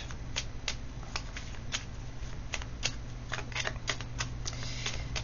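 Tarot love cards are shuffled by hand in a quiet room. Soft, continuous riffling and sliding carries sharp card snaps at irregular intervals throughout. No one speaks.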